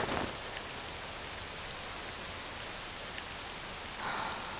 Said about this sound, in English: The rain clouds are blowing off towards the mountains.